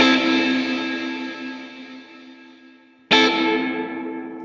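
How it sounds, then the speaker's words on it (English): An electric guitar through a Line 6 Helix dynamic room reverb plays a sustained chord that slowly decays into a wash of reverb, then a second sharply attacked chord rings out and begins to fade. "Kind of notice that my note attack comes out a little bit more before it's engulfed in the reverb"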